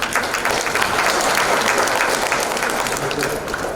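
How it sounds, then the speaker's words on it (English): An audience at an international university conference applauds an alumnus, a dense, steady wash of clapping from many hands that holds loud and even throughout with a faint crowd murmur beneath. "Give a big clap for alumni UPSI."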